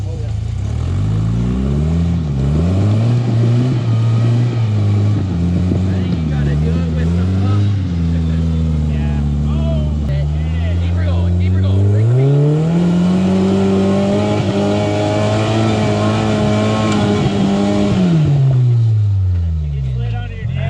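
A loud 16-valve car engine revs up and down repeatedly, climbing to a high-pitched whine and holding it, steady and close throughout.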